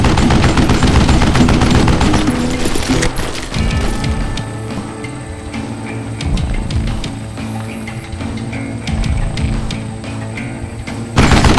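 Rapid gunfire in the Western shooter Call of Juarez: Gunslinger, loud and dense at first, then continuing as scattered shots and crackling impacts over a rumbling game background.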